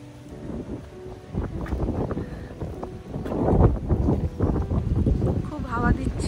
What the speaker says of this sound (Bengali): খুব হাওয়া দিচ্ছে আজ